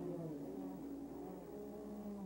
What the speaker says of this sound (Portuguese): você sente a saúde do motor Buick V6 do Indy Lights